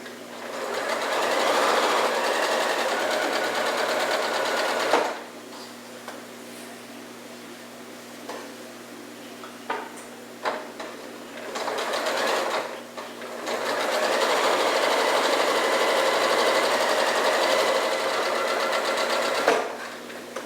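A sewing machine stitches a quilt block in two sustained runs of fast, even whirring, separated by a quieter pause with a few small clicks.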